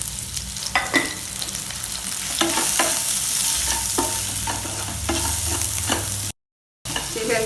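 A large chopped onion fries in a pan with salt while a spoon stirs it, giving a steady close sizzle broken by repeated scraping strokes, with a short dropout near the end.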